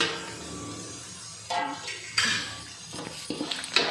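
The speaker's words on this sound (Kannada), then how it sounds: "ಅದಕ್ಕೆ ತೆಂಗಿನ ತುರಿ ಏನು ಇಕ್ಕಿದ್ದು ಅದನ್ನು ಅದರೊಳಗೆ ಮಿಕ್ಸ್ ಮಾಡೋಣ" A spoon mixes grated coconut into lemon rice in a pan, giving a few short scraping and clattering strokes against the metal after a quiet start, close by with no voices.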